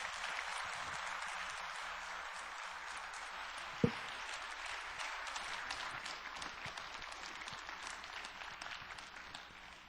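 A church congregation applauds to welcome a visiting pastor at a spring revival service, a faint, even wash of clapping heard from a distance throughout, with one sharp knock partway through.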